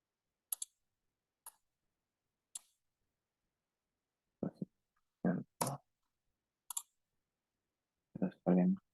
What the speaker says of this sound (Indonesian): Terus kalian klik ini sekali.